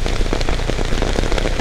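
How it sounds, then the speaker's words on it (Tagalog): Heavy rain pours down close by, a dense, loud patter drumming constantly on a surface. "Ay, ang lakas ng ulan, grabe."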